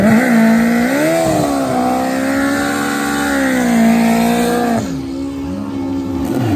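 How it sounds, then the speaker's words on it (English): A GSX-R 1000 or turbo Hayabusa pro street motorcycle does a burnout at a drag race, its loud sustained engine roar holding a steady pitch before dropping off abruptly near the end. "Oh, the sweet sound of a burnout."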